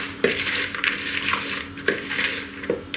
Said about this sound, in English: So give it a stir.